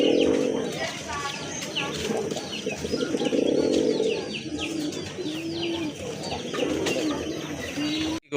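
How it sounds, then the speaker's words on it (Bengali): Kagoji pigeons at a pigeon farm coo repeatedly in low, rolling bursts close by, with chirping birds in the background and people talking over them. "এটা হচ্ছে কাগজি কবুতর।"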